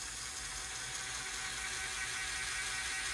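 A linear actuator drives the shell-firing mechanism of a Lego RC Sherman tank, giving a faint, steady mechanical whir that runs evenly throughout without a distinct release or firing snap.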